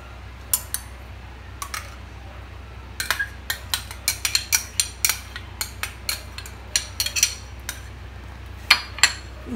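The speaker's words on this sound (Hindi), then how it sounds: "इन सबको अच्छे से मिक्स करना है।" Spoon clinking repeatedly against a bowl while mixing mayonnaise with salt, chili flakes and oregano for a pizza paratha, with irregular sharp taps spread across the whole stretch.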